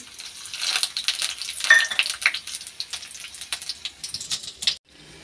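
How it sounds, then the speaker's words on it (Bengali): Whole spices for panch phoron crackle and sizzle in hot mustard oil in a wok, a busy, steady frying patter with small pops that cuts off abruptly near the end. "এই যে কড়ার মধ্যে সরষের তেল দিয়েছি, 5 ফোড়ন দিয়ে দেবো একটু।"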